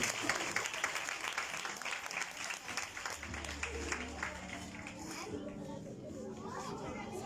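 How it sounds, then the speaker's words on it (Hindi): An audience at a Christmas tableau drama programme claps for the children, a dense round of applause that gradually thins out, with voices and murmuring mixed in. "अपनी तालियों से बच्चों की हौसला अफजाई कीजिए।"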